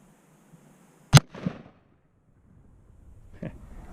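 An H&R Handi single-shot rifle chambered in 270 Winchester fires once at a sighting-in session, a single sharp, loud crack followed by a short rumbling echo, then quiet with faint outdoor noise and a small thump later.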